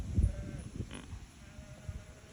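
A newborn goat lets out a short, faint bleat, one quavering cry near the middle against low rustling and background noise.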